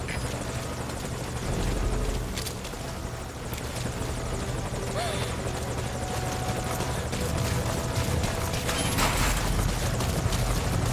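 A helicopter's rotor and engine roar continuously and loudly at close range, a dense rumbling wash that holds for the whole span with a few faint background sounds.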